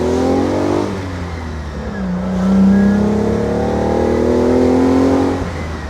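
A 1967 Fiat Dino Spider with a 2.0 engine accelerates through the gears, heard from inside: loud, strong rising engine notes, a brief dip at a shift, then a sustained climbing pull that eases off at the end.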